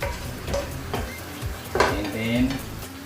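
Minced chicken meat sizzles in a pan for a Korean bibimbap, with steady frying hiss broken by clinks and scrapes of a utensil stirring against the pan.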